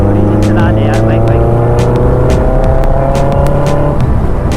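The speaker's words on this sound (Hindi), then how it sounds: "थोड़ी सी चला दे यार बाइक" A motorbike is ridden, its engine giving a steady close hum with a slight pitch rise near the end, mixed with road rumble and brief clicks, while someone talks over it.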